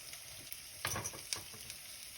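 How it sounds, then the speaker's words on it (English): Garlic and onion sautéing in a pan give a soft, steady sizzle and crackle with a few light stirring scrapes, faint and continuous with no talk. "The meantime that our garlic and onion are sauteing"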